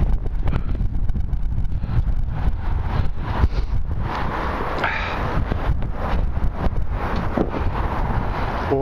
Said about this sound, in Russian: Ветер сильный, зараза.